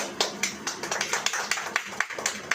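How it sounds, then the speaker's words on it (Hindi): A few people clapping at a Christian sermon gathering, a quick run of sharp, fairly faint claps in a steady rhythm. "हमें ताली देंगे"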